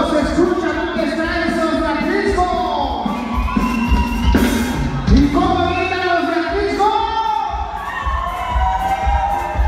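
A loud concert crowd shouting and cheering together at a show, with excited whoops and high voices rising and falling over a steady roar.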